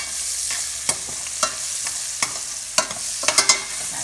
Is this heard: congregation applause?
no